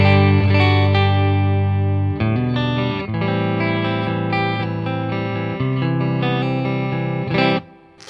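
Clean electric guitar chords from a Fender Deluxe Strat ring out through a Fender Deluxe Reverb amplifier, sustained and full with a touch of reverb, fading at the end.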